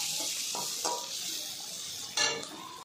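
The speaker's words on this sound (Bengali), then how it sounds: "লঙ্কা কুচি আর জিরের গুঁড়ো দিয়ে একটু ভেজে নেব।" Chopped green chilli and cumin powder fry quietly in a pan, with a soft sizzle and a few utensil scrapes and clinks against the metal as the mix is stirred.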